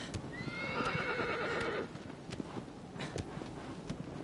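A horse whinnies in a long, wavering neigh, followed by clip-clopping hooves, in the video game Shadow of the Colossus; the call is fairly clear, then gives way to steady hoofbeats and faint wind.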